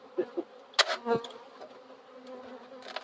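Bees buzzing close by during handling of a bee-filled container, faint intermittent buzzes with a few sharper bursts over a quiet background.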